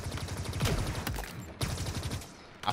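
Rapid automatic gunfire from a weapon in the arena shooter Halo Infinite, steady close bursts broken by a couple of louder single reports, with no talk over it.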